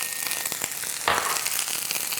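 Onions dropped into hot olive oil in a pan, a steady crackling sizzle that jumps suddenly louder about halfway through and then keeps hissing.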